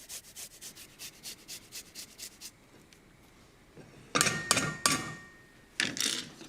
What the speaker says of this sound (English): I'm going to grate in a fat clove of garlic.